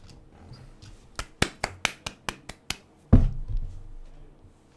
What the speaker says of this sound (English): I need to add some clapping sound effects.